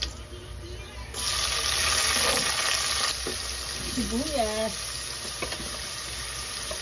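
Onions tip into a pan of browned garlic and set off a loud, continuous sizzle that jumps up suddenly, then eases slightly while they are stirred; a voice briefly speaks over the frying.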